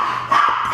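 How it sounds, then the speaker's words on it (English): A dog barks and yips in short bursts while chasing a teenager indoors, close and fairly loud, with no talking over it. "yep, that's my dog chasing my teenager."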